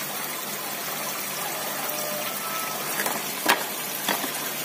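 Water flowing through an NFT hydroponic system fed by 7 mm PE hose, a soft continuous trickle with a few faint clicks and splashes.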